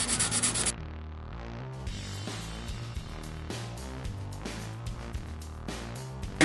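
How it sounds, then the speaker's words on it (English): Hand sanding of a scratched carbon fiber mountain bike frame with 400 grit sandpaper, a steady close rasping rub with rhythmic back-and-forth strokes and no talking. "here I'm gonna use a 400 grit. So just send it out lightly"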